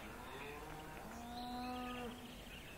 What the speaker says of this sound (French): pourquoi on entend les vaches?